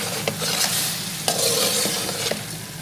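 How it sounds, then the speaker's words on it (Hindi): Boiled beef tipped into a karahi and stirred, giving a loud close sizzle with a few sharp spoon scrapes and knocks against the metal pan. "कढ़ाई में बॉइल्ड बीफ ऐड करें"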